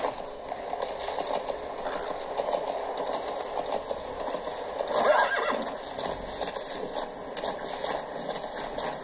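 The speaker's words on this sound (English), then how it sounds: "We'll get on the horse." In Metal Gear Solid V: The Phantom Pain, a horse whinnies clearly amid a steady clip-clop of hooves, close and moderately loud, with no speech over it.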